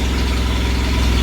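A Bedford CA ice cream van idles steadily in a workshop, its engine giving a continuous low, even throb that stays close and loud throughout and carries no talk.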